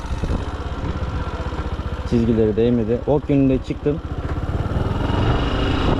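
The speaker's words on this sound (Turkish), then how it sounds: "Motor ikinci viteste." A motorcycle engine in second gear runs on an A-class licence test course, a steady low drone continuing throughout while someone talks over it.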